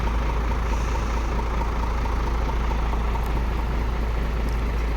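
A truck carrying equipment for a large mor lam troupe arrives at Wat Khrok Krak in Samut Sakhon, its engine a loud, steady, close rumble that holds without a break.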